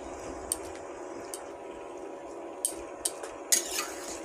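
A spice mixture being stirred into khichuri with cashews and raisins in a pot, soft scraping and gentle mixing under a low background hiss, with a few sharp clinks of a utensil against the pot.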